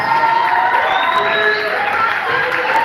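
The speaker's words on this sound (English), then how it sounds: "Let us clap for him." A large crowd at a school graduation ceremony cheers and shouts continuously, with a dense wash of voices and scattered claps blending into a loud, steady roar.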